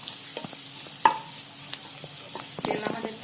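Peanuts and grated coconut stir-fried in oil for a stuffed capsicum masala, giving a soft, steady sizzle with intermittent scraping taps of a spatula against the pan, one sharper knock near the start.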